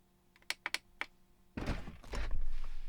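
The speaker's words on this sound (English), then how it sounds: "it opened the door here on the right side" A few light clicks and taps come first, then a louder mechanical thunk and sliding rush as the right-side door of a Tesla opens nearby.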